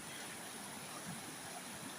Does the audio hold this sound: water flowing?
yes